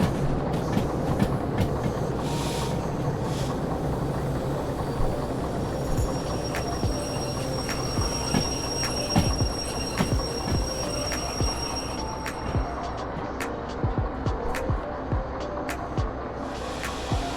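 Train in the Derail Valley video game rolling along the rails and slowing down, steady rumbling with rhythmic wheel clicks and occasional squeals, continuous and fairly close, gradually easing toward the end.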